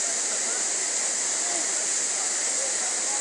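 Waterfall pouring into a blue lagoon, a steady, loud, broadband rushing roar that stays constant throughout with no breaks.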